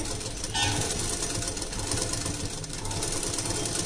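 Close up, a sewing machine works steadily on a blouse with added cups, its fast needle clatter and motor whir running continuously and evenly throughout.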